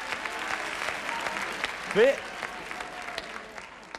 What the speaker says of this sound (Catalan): aquest aplaudiment molt fort